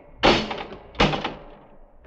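Two heavy doors slam shut about three quarters of a second apart, a radio drama sound effect in a science fiction time machine story, each a loud close thud with a short rattling tail and no talk over it.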